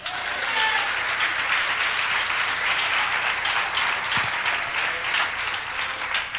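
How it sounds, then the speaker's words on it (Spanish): Sustained applause from a church congregation during a Sunday morning service in Barquisimeto, Venezuela, steady and full throughout with no speech over it. "Denle un aplauso al Señor."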